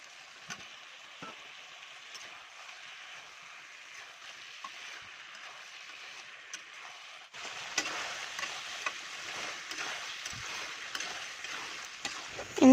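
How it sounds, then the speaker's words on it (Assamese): Potatoes fry in oil in a covered pan, a steady soft sizzle that grows louder and busier partway through, with occasional stirring scrapes and no voices. "এইখিনি মই ঢাকন দি ভালকৈ ভাজি ল'ম, আৰু তেল ওপঙি অহাৰ লগে লগে মই ইয়াতে এতিয়া আলু দি দিম"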